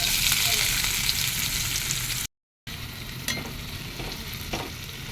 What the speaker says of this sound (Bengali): তেল গরম হয়ে গেছে। এবার এতে আমি পেঁয়াজ কুচি দিয়ে দেবো।